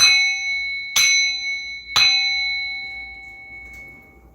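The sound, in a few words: bell being struck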